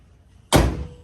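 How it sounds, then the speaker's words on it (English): A car door swings shut with a single solid, close thud after a quiet lead-in, on a vehicle with rust repair done to its rear quarter panel in a home garage. "Door closes good."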